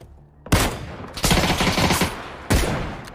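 Sniper rifle fire in a first-person shooter, a few loud close shots in quick bursts, each followed by a ringing tail.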